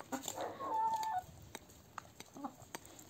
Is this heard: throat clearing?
no